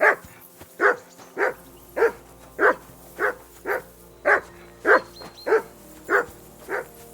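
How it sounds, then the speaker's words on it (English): A dog barks steadily in the video game Kingdom Come: Deliverance II, about a dozen evenly spaced, fairly loud woofs at a slow, regular rhythm with no talk over them. "I assume you can hear that damn dog of yours barking."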